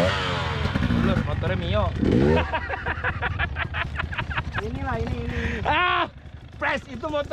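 A motorcycle engine revs and whines repeatedly, rising and falling in pitch, with people talking loudly over it throughout.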